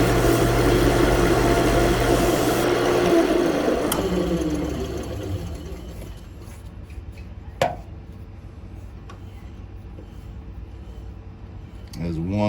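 A wood lathe spinning a monkey pod blank at about 750 RPM hums and rumbles loudly at first, then winds down into quieter handling noises with an occasional knock.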